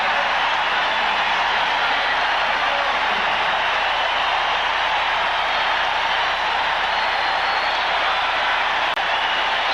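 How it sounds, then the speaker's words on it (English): A packed arena crowd at Game 6 of the 1982 NBA Finals between the 76ers and Lakers roars steadily for the whole stretch, a dense continuous cheer with no breaks. "the crowd hasn't stopped cheering yet"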